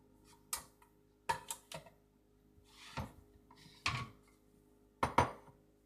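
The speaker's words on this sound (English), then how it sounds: "I'll just take out the pasta in a bowl" Pasta is served out into a bowl in a home kitchen, producing several separate clinks and scrapes of utensil against dish at irregular intervals, fairly close, with quiet gaps between.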